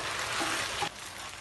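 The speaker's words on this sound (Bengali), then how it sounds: "এইবার চিকেনটা আমি 4 থেকে 5 মিনিট খুব ভালোভাবে কষিয়ে নেব।" Chicken frying with spices in a pan for Afghani pulao, a dense, even sizzle heard up close, briefly easing toward the end.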